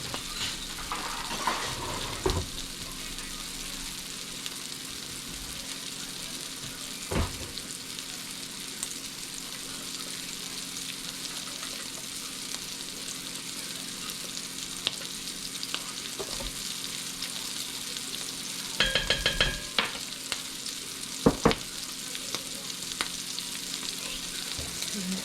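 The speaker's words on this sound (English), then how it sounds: "The same spoon and stir up my potatoes." Potatoes frying in a pan with baking soda added, a steady close sizzle throughout with occasional clinks and scrapes as a spoon stirs them, no voices.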